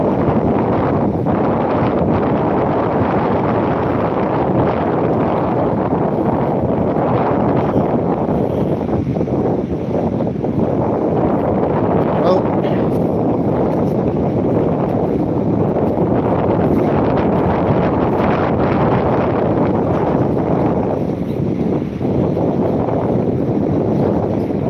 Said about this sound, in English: we've got quite a wind blowing